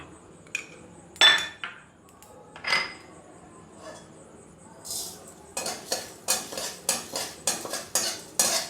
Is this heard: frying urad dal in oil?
yes